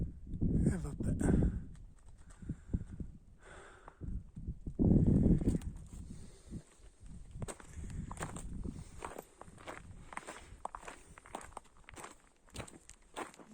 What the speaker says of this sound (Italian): Ho sentito dei passi, prima pensavo fosse qualche muflone, invece sono le capre.